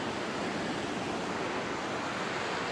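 Steady rushing flow of an icy stream in a canyon, a continuous broad wash of water heard from close by in the middle of the creek, with no voices.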